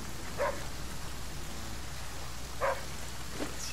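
Steady rain falls in the survival video game The Flame in the Flood, a constant wash of drops with a few brief brighter splashes standing out, heard alone without talk.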